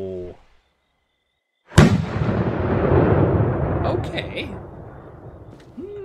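Minecraft firework rocket from the Zink Collection mod bursting with a sharp, loud crack, followed by a long rumbling, crackling decay; a voice speaks briefly before the blast.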